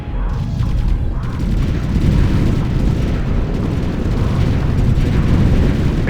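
Heavy rumbling explosions and gunfire from the real-time strategy game Ground Control 2 roll on without pause, a loud, dense, low barrage of booms and crackling bursts.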